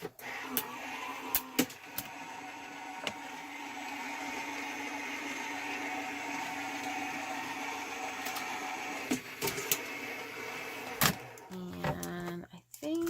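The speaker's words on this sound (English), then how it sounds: "then we're going to run this through the die cutting machine" A Gemini Junior electric die cutting machine pulls a card stack with a milky shim and top shim through its rollers, giving a steady mechanical whir and hum with a few sharp clicks, ending in a brief shift of tone.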